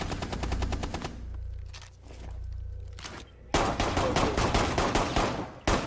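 Rapid bursts of automatic gunfire in Rainbow Six Siege rattle loudly, a sustained volley, a lull with scattered shots, then dense repeated firing close up.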